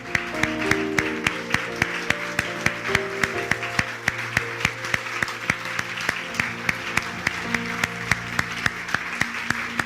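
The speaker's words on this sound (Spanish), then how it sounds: "Dele un fuerte aplauso al Señor." Congregation applauding the Lord during a church worship service, steady dense clapping throughout with sustained musical tones and a rhythmic beat underneath.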